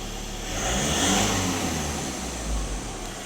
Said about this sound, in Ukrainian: Автомобіль автоматично все це підіймає оберти.